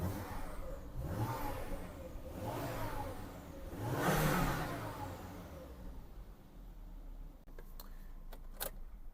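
A Volvo XC70 P2 with a 2.5T petrol engine cranks through a long, poor start in a loose, pulsing rhythm of surges that builds to a loud catch near the middle, then settles into a steady idle broken by a few sharp clicks.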